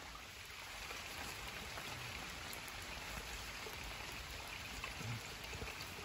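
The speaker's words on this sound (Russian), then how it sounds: "Маленько дождик пошел." Light rain falls steadily in woodland during a metal-detecting outing, a faint, even patter and hiss with no voices over it.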